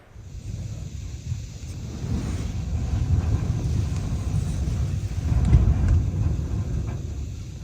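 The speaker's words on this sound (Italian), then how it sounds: "però c'è un vento fortissimo" Strong wind buffets the microphone at the seaside in a fishing village at La Isleta, Cabo de Gata, a continuous loud low roar with gusts that swell toward the end, no voices.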